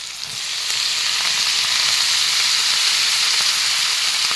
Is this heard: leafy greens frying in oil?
yes